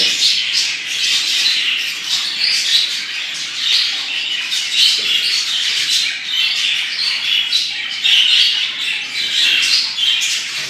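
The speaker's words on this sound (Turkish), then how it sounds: "Kuşlarım burada. Hepsinin keyfi yerinde." Budgerigars of a show-budgie flock fill an aviary with constant overlapping chatter, sharp squawks and chirps, loud and close, with no pause.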